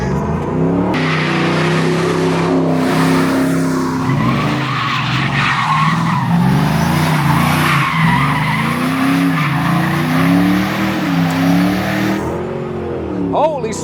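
A stolen truck, belonging to someone, drives hard with loud tire squeal and skidding over a revving engine, the whine rising and falling throughout, with a voice talking over it.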